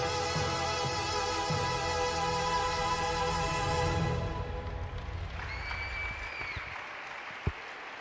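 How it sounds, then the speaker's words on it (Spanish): Dense applause from an audience at a rhythmic gymnastics competition, greeting a cadet group routine; steady clapping for about four seconds, then thinning to scattered claps and a few isolated sharp ones. "Pues esos aplausos que se llevan este conjunto cadete de la Pima Bustinchuri"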